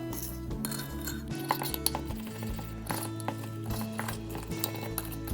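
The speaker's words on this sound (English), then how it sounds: "Now we're going to mix it all up really, really well." A spoon clinks against a mug while chocolate mug cake batter is mixed, giving a rapid, uneven series of close, bright taps and scrapes over a low background hum.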